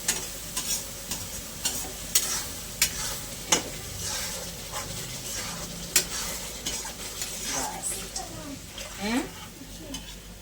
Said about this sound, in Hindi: ये थोड़ा सा 2 मिनट बस मसाले के साथ पक जाए।